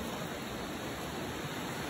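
River water flows in a steady, rushing wash of broadband noise, continuous and fairly soft, with no voices over it.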